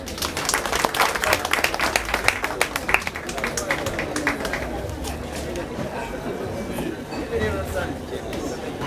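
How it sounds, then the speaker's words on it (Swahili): Audience applause at a tourism excellence award ceremony in Kisumu, a dense crowd clapping that swells early then carries on steadily with chatter and voices mixed through it. "A better round of applause."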